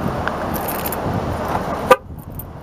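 A parked car gives a short horn chirp as it locks by an ocean-view stop at Bodega Bay, a single sharp toot ending steady wind and outdoor ambience, followed by near silence.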